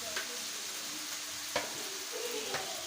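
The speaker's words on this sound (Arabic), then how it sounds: "هحط عليهم دلوقتي بقى على طول الحتت بتاعتي اللي هي بتاعت الكرشه اللي انا سلقتها" Pieces of boiled beef tripe go into a pan of frying green beans, zucchini, potatoes and onion, giving a steady sizzle with a few sharp clatters and scrapes, no talking.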